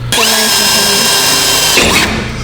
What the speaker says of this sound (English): that's a rapid cut and drill bit right there